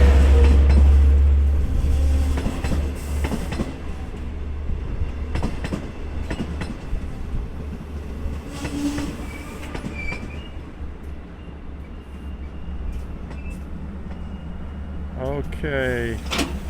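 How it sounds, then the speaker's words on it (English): A Long Island Rail Road special event train of eight Kawasaki C3 cars rolls loudly past the platform at Speonk, with a heavy rumble, rhythmic wheel clatter and bursts of squealing wheels, while faint voices sound nearby. "Yeah, here comes the train."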